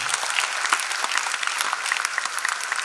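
A comedy poetry show audience claps steadily and densely for the whole stretch, a full, even round of applause with no voices over it.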